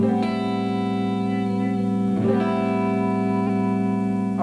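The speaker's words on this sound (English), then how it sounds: "A darker single coil sound." Electric guitar played through a darker single-coil pickup with effects, a sustained, heavily processed chord drone thick with distortion and reverb that swells and shimmers steadily, with faint pick attacks at intervals.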